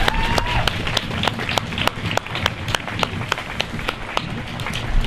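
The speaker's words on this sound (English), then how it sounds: "Let's offer them a big round of applause again." Audience applause at a university arts celebration introducing the Year of the Arts, steady broadband clapping with sharp individual claps standing out over a constant crowd wash for about five seconds.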